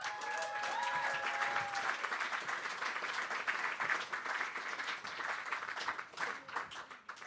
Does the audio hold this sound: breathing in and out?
no